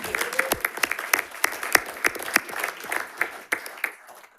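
A school district board meeting audience applauds to welcome a new staff member, with sharp individual claps scattered at an irregular rhythm, fairly close and moderately loud, thinning out toward the end.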